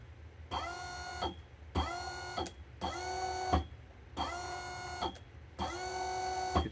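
A DIY budget 6DOF motion simulator motor whirs in five repeated bursts of about a second each, a rising whine that settles to a steady tone, with short pauses and faint background hum between runs.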